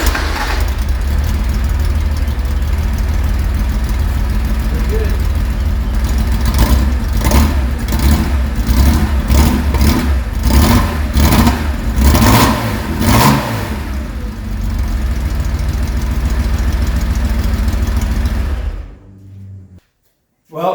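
A Porsche 911T engine, newly installed with its intake, cranks and catches, then revs hard in repeated bursts before settling, loud and close, cutting off abruptly near the end.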